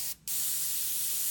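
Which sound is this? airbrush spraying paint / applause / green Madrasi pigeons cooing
airbrush spraying paint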